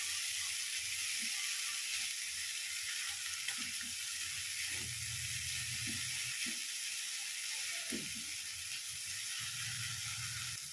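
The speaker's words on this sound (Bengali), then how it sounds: "এবার আবারও একটু মশলাটাকে কষিয়ে নেব।" Spice paste for a prawn curry sizzling in a pan, a steady hiss with soft stirring and scraping now and then, fairly quiet and close.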